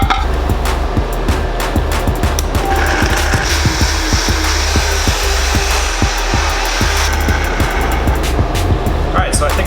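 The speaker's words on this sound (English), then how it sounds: "Alright, so I think I'm done blending that up." A blender runs continuously on a sauce with star anise pods, a loud whirring roar with rapid rattling ticks from the pods knocking inside the jar, while someone talks over it.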